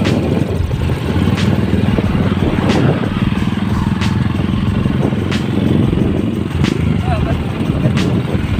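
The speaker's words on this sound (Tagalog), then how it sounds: "Lakas ng motor." Honda 155 motorcycles in a 200-meter drag race, engines droning loud and steady throughout with sharp clattering bursts, while a crowd talks and shouts nearby.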